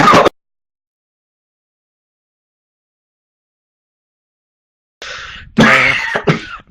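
A person coughs after taking a hit: one brief cough, a few seconds of silence, then a harsh burst of several rough, raspy coughs and throat clearing, close and loud.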